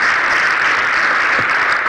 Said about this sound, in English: So please, an extra round of applause for him.